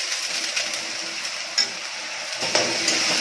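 Onions frying in a pan make a steady, soft sizzle. A spoon stirs them, with a few light metallic clinks against the pan. No one speaks.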